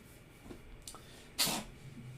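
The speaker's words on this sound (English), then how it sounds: "My cat just sneezed." A pet cat lets out a single sharp sneeze, preceded by faint sniffing breaths, close to the microphone in a quiet room.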